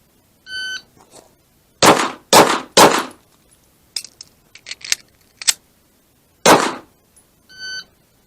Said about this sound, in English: you have to fire 4 shots. So you're going to get a slide lock reload in the middle of it.